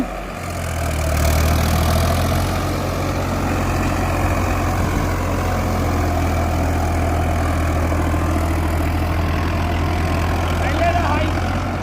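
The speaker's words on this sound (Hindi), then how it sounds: "देखो कितना बढ़िया जम के ट्रैक्टर चल रहा है और आवाज सुनो ट्रैक्टर की" Farmtrac 60 tractor engine held steady at 1800 rpm in a field, a continuous loud low rumble that drones evenly throughout, with someone talking over it.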